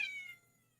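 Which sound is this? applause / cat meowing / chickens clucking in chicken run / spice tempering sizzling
cat meowing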